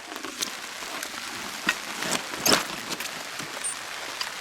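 Light rain pattering on a surface, with scattered close drips and taps over a soft steady hiss.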